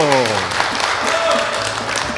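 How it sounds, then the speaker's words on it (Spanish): A TV studio audience applauds on a Colombian public-channel talk show, steady dense clapping running under a presenter's voice, with musical tones at the start. "Fuerte el aplauso"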